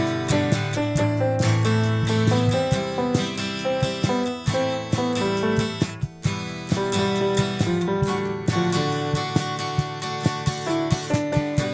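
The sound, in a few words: drums, guitar and melody playing together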